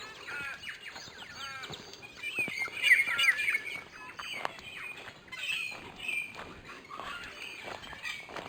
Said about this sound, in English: listen to those birds go off